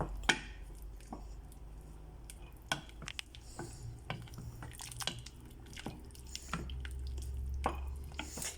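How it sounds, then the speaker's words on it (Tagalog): A spoon stirs biryani rice in a pot with soft scraping and light clinks against the metal, quiet and intermittent, with a faint low hum under it. "Hahaluin natin yan. Halo lang ng halo."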